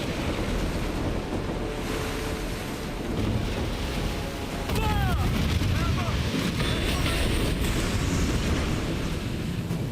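Ship cannon fire in Assassin's Creed Black Flag, heavy booming blasts rolling over constant ocean surf and wind, loud and dense, with a voice talking over the battle.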